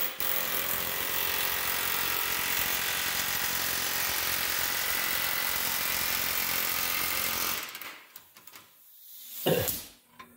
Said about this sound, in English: There's the old air chisel.